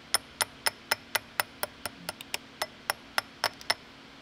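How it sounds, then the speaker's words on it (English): A screwdriver is used while reassembling a restored 1943 StuG III ZF gearbox, giving a series of sharp, crisp metallic clicks at a fairly regular pace of about three to four per second in a quiet workshop. "Hang on, now the screwdriver."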